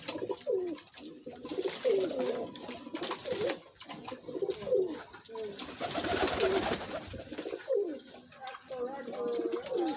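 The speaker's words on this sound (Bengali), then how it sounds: "আমার যে ব্রিডিংয়ের কবুতর এই খাসায় যেগুলো রাখা আছে ব্রিডিংয়ের সেগুলোকে গোসল দিব" Breeding pigeons kept in a cage during a bath, cooing repeatedly in soft rhythmic phrases close by, over a steady background hiss with occasional light rustling.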